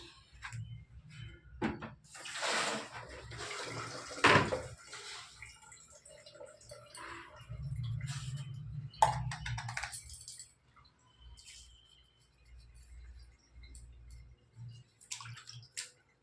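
Water poured into a basin to soak clothes in detergent, a few splashing bursts and a longer low gushing pour with scattered drips and knocks, fairly quiet and close.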